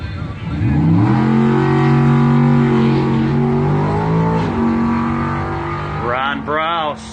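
A 1964 Chevy Nova drag car with nitrous launches down a drag strip at a doorslammer event, its engine note rising loud and sustained, then giving way to a second engine revving, all under a track announcer's commentary.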